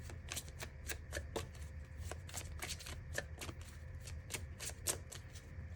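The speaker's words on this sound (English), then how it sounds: "Let's get a chakra card out." A deck of chakra cards is shuffled close by, the cards riffling and snapping in a quick, steady run of crisp flicks that lasts throughout, with no talking.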